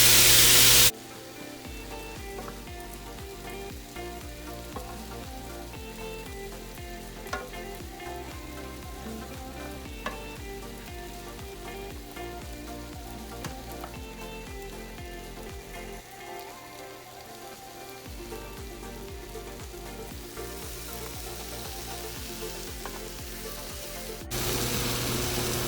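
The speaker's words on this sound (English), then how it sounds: "Still sauteing our mushrooms and onions until they get" Mushrooms and onions sauté in a hot pan, making a continuous, even sizzle and crackle like light rain that runs unbroken throughout, with no one talking.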